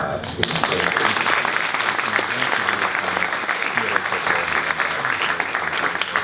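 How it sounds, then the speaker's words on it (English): A symposium audience on generative AI applauds itself after a panel discussion, dense clapping with sharp individual claps standing out, while a voice carries faintly underneath. "will you please give yourselves a round of applause"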